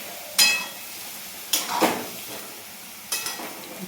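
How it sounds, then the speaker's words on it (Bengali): A few sharp sizzles and clinks sound as bay leaves go into fried chana dal in a pan, three distinct bursts against a quiet, faintly crackling background. "সুন্দর করে ভাজার পর ছোলার ডালের মধ্যে মা তেজপাতা দিয়েছে"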